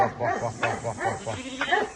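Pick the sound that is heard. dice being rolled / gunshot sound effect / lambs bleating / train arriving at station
lambs bleating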